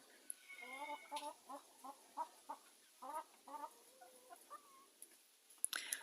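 Frizzle dwarf Cochin chickens cluck and chatter in a steady series of short, close calls, with a brief higher squawk near the end; no one speaks.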